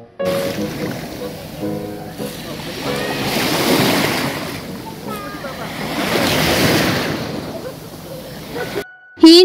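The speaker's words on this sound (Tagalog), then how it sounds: "Tamang video nga din pala ako sa alon din sa dalampasigan," Steady roar of surf washing in and out in broad swells on a beach, with wind buffeting the microphone and a few voices underneath.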